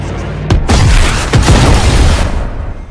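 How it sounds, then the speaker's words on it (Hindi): Two heavy bomb blasts boom in a video game, one shortly after the other, loud and close, their rumbling tails overlapping with no talk. "दो बम पड़ गए"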